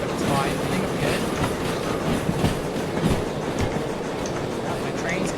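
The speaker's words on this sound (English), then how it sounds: "my train's coming through the corner" S282 steam locomotive running in the Derail Valley video game, a continuous rumbling clatter of wheels on track with rhythmic clicks and scattered squeals, steady and fairly loud, with no talking.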